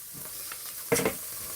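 Chanterelle mushrooms dropped back into a hot frying pan give a close, brief stirring clatter and a burst of sizzle over a constant hissing fry; no talk.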